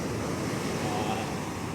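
Pacific Ocean waves washing up a narrow, eroding beach at Rosa, a continuous broadband rush of surf with wind buffeting the microphone, loud and close.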